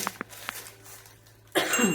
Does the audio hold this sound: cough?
yes